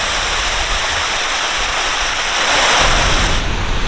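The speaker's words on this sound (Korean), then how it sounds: "폭포네요 폭포 폭포를 보실 수 있습니다" An artificial rock garden waterfall at the entrance of an apartment complex gives a steady, dense rush of falling water. It holds evenly throughout with no voices and rises slightly toward the end.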